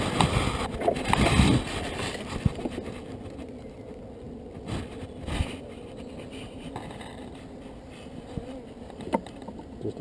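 Honey bees buzz around a poly hive in an awkward spot, a soft continuous hum with insects passing close now and then, plus a few light clicks and taps of hive handling.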